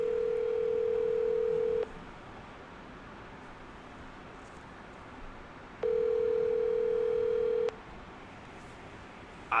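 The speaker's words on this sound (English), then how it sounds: "We're still going to make a very important phone call" A steady telephone dial tone sounds twice while a phone call is being placed, each stretch lasting about two seconds with a quieter gap of background hum between them. No one speaks.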